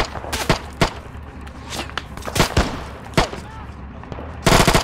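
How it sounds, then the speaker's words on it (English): Machine gun fire in a WWII Eastern Front video game set in Belorussia, bursts of gunshots cracking in sharp clusters, some close and loud and others distant, with a heavy burst at the end and faint talk underneath. "We're taking MG fire."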